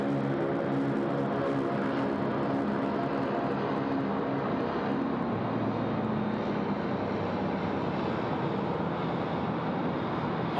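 Aircraft moving along taxiway Alpha at Sydney Airport, a continuous broad jet engine roar with a steady drone, loud and sustained throughout, with some wind buffeting on the microphone.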